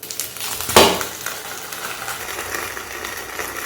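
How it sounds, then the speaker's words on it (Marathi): A mung dal handvo flipped in a hot pan, giving one quick scraping clatter of the spatula, then a steady soft sizzle as the second side roasts. "दुसरी बाजू देखील आपण ही पलटून शेकून घेऊ"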